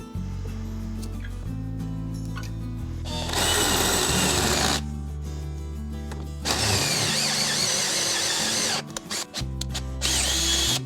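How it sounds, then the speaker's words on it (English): A power drill whines in repeated bursts as it bores out the centre of metal spacers, with short pauses between runs and a low motor hum throughout. "I found some spacers that might work, but I'll have to drill out the center of them"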